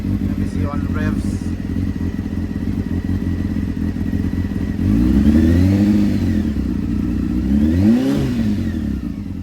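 A Honda CB600F motorcycle engine idles close by, then revs up twice in quick swells that rise and fall back to idle, with someone talking briefly early on.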